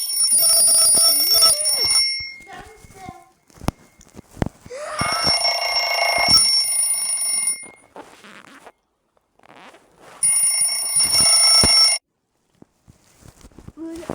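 A BMW car's shrill electronic alarm blares in several long bursts separated by pauses, with clicks and rustling in between.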